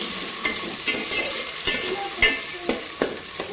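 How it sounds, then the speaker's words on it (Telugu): Tomato pieces frying in a pan for biryani, a close steady sizzle with regular spoon taps and scrapes against the pan as they are stirred. "ఇప్పుడు టమాటా ముక్కలు కూడా వేసి ఈవెన్గా ఫ్రై అయ్యేటట్టు ఫ్రై చేసుకోవాలి."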